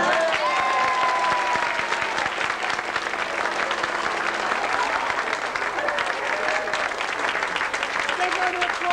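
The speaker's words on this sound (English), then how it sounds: "Big round of applause for everyone." At an amateur players' show, an audience bursts into loud, sustained applause for the children's section winner, dense clapping that holds steady, with cheers and voices mixed in.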